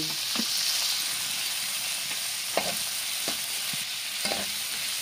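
Shrimp tossed into a hot pan of frying pansit bato ingredients, a steady loud sizzle with occasional scraping stir strokes, no voices.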